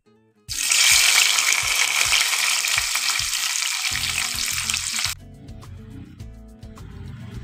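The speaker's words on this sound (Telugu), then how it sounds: "లైట్ ఉల్లిగడ్డలు వేగాయి" Onions and green chillies hit hot oil with an abrupt, loud, close sizzle that hisses for several seconds and then cuts off, with soft music playing underneath throughout.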